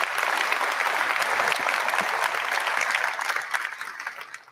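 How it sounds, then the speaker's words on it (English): Keynote audience at a corporate tech conference in London applauds steadily for several seconds, a dense wash of clapping from a large crowd that fades slightly toward the end. "Can we just give them a quick round of applause?"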